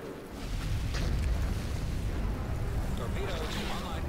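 Heavy explosive rumble as a turbolaser emplacement is destroyed during a ground battle in Star Wars: Empire at War, a dense low boom that swells and lingers for several seconds under a talking voice.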